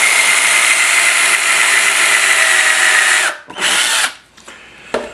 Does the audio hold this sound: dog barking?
no